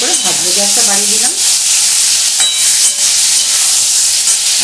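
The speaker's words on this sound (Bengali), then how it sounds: "পটলগুলো একটু ভালো করে ভাজবো, গ্যাসটা বাড়িয়ে দিলাম।" Pointed gourd (potol) sizzles loudly in a hot pan on a gas flame, a dense steady hiss with occasional stirring scrapes and a brief tonal squeal at the start.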